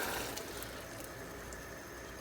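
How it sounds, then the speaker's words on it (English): Beans poured into a pot for a seafood feijoada, a continuous rushing, sloshing pour at steady level, slightly louder at the start, with no talking. "we'll take the beans and we will pour them in there"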